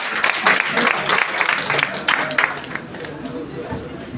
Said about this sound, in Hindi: जोरदार तालियों के साथ उनका